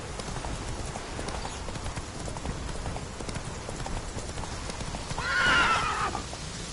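In The Witcher 3, the horse's hooves clip-clop in a quick galloping rhythm, with a loud whinny near the end over faint background ambience.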